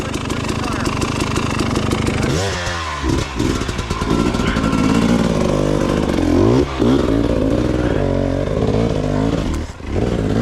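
A dirt bike rides a rough trail line, its engine loud and close, revving hard, bogging and surging as the rider drags it through, with a voice faintly audible over the roar.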